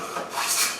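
A Woodline ebony hand plane takes a shaving from wood in one quick, airy, rasping stroke that swells and fades within a second, close and clear.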